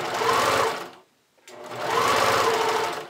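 A sewing machine stitches plush elastic onto a bodysuit in two close, loud, even bursts of rapid needle whirring, with a brief silent pause between them and no talk.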